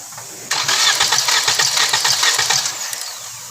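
A 2022 Toyota Camry engine cranks over steadily with spark plugs removed from cylinders 1 and 2 so it cannot start, a loud, even, rapid whirring churn lasting about three seconds before cutting off, close up with no talking.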